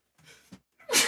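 A single close, sharp sneeze with a quick intake of breath just before it, sudden and loud against near silence.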